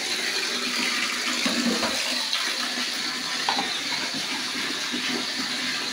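Water runs steadily over the outer drain pipe of a washing machine, a continuous broadband rush and splash with no break and no voices.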